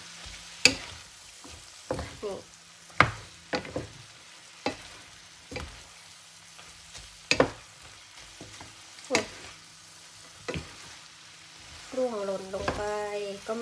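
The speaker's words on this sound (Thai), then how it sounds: "ไปเลยค่ะคลุกเคล้าให้เข้ากันนะคะ" Chicken pad see ew with konjac noodles tossed in a pan, with repeated sharp clanks of a utensil against the pan over a steady low sizzle and a short scraping stir near the end.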